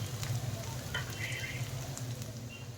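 Potatoes frying in ghee for sabudana khichuri: a soft, steady sizzle with light crackles and a faint low hum, close and quiet, no speech.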